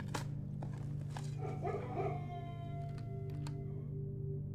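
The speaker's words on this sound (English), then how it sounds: "I think it was actually the neighbor's dog barking" A neighbor's dog barks a few times in the distance, faint and scattered over a steady low hum with a thin tonal whine, no talking.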